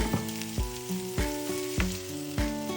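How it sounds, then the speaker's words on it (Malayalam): Onions sautéing with salt in a pan for prawn curry give a continuous close sizzle, punctuated by regular scraping strokes of a spatula about every half second, with no talk. "നമുക്ക് ഓണിയൻസ് ഇട്ട് കൊടുക്കാം. നന്നായിട്ടൊന്ന് വഴറ്റിയെടുക്കാം."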